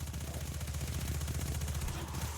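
A submachine gun fires in the Destiny 2 video game, heard as quiet, rapid, evenly spaced rattling shots in a sustained burst under a low background hum.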